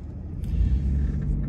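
A black Corvette fitted with ZR1 wheels rumbles as it pulls away, a steady low engine drone at moderate distance with no voices over it.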